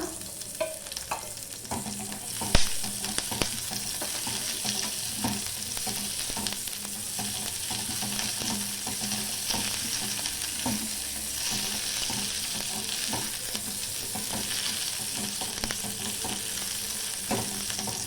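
Chopped onion fries and is stirred into roasted masala in a pan, making a continuous close sizzle with scattered scraping knocks and clatters from the spoon, and no talking.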